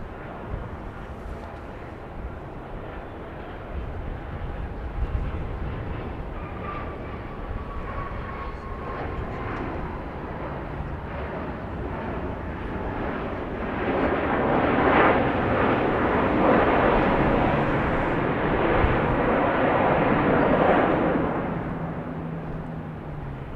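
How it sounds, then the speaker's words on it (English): A Dassault Falcon business jet arriving at Dallas Love Field airport at night, its engines a steady broadband roar that swells louder midway through before easing, with no talk over it. "we were going to show you the plane coming in, weren't we? This Dassault Falcon."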